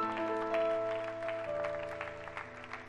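A church congregation claps during worship, the clapping blending with sustained keyboard or organ chords that hold steady throughout.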